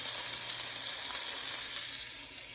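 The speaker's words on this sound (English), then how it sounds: "our oxtails are browning nicely in the skillet" Oxtails browning in a skillet give a steady, loud, close sizzle of frying fat that holds evenly and eases off slightly at the end, with no talking.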